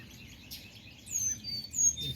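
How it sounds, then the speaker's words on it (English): Birds sing in a tropical backyard garden at about eight on a December morning, with several faint, distant chirps and whistled calls over quiet background hum. "the birds are just singing all over everywhere today"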